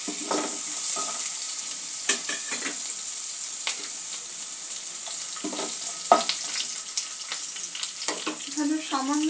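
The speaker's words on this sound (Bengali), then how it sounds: "এই মূলোটা একটু অল্প করে ভেজে নেব।" Radish pieces fry in a pan as the base for a spinach dal, a continuous close sizzle broken by the scrape of stirring and a few sharper clatters, with no talk.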